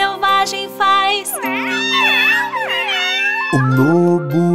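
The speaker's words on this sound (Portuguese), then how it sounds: "Um gato selvagem faz." Drawn-out, wavering wild cat meows repeat loud and close, sliding up and down in pitch, with a lower yowling tone near the end.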